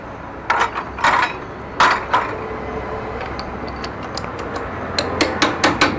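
Sharp metallic clanks and taps ring out as a tool works a clutch nut on a Bajaj Avenger 150 Street motorcycle, with scattered close strikes in short bursts and quieter pauses between them.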